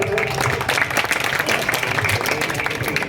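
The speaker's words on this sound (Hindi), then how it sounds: "जोरदार तालियां बजाएं" A crowd applauds at a gazal singing and poetry quiz in Murud, Janjira: continuous, fairly loud clapping from many hands that holds steady throughout, with no clear speech over it.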